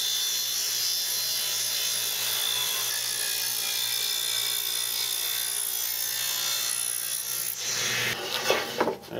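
A table saw cuts through wood with a steady, high, rasping whine held for several seconds, then rattles and tapers off near the end as the cut finishes.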